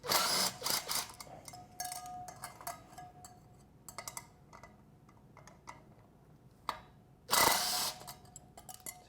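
A rear sprocket is being unbolted from a standard wheel of a 2015 Yamaha YZ450 dirt bike, with bursts of ratcheting tool clicks and metallic rattles separated by quieter pauses, close and fairly loud.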